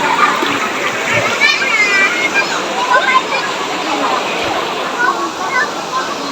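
Water flowing in a stream at Lembah Wilis, Madiun, a steady close rushing and splashing that fills the whole clip, with people talking faintly in the background.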